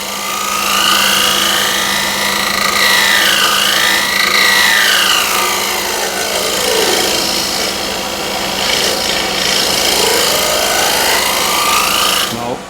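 A wood lathe spins while a scraper held in shear-scrape position cuts the turning piece, making a continuous loud rasping hiss that rises and falls in pitch as the tool sweeps along the curve, with faint talk beneath.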